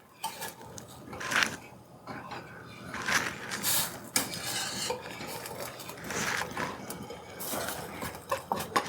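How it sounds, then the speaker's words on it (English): A spoon slowly stirs cream of chicken soup in a pot simmering on a low gas stove, with irregular scraping and clinks against the metal, moderately close. "I'm going to stir it a little bit slowly at first until everything starts mixing together better"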